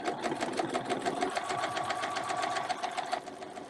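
A sewing machine stitches a fabric snowflake in one continuous fast run, its needle chattering in a tight, regular rhythm close by before slowing near the end.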